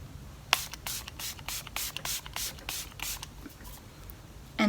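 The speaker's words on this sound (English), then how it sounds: "you can go ahead and use a setting spray" Milani Make It Last setting spray misted onto a face in a run of about ten short, crisp pump bursts in quick rhythm, close and fairly loud over a low background hum.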